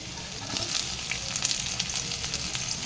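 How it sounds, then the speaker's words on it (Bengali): Browned potatoes and onion fry in hot oil, giving a dense, continuous sizzle with small crackling pops, close and steady throughout with no voices. "আলুগুলো আমি ব্রাউন ব্রাউন করে ভেজে নিয়েছি এবার আমি এর মধ্যে পেঁয়াজটা দিয়ে দেবো"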